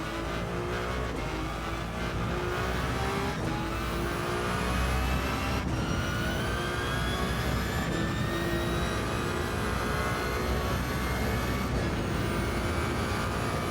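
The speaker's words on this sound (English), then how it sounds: "The car sounds pretty good." A car engine in the Gran Turismo 7 video game revs continuously, with rising gear-by-gear whines that climb in pitch and drop at each shift, steady and moderately loud with no voices.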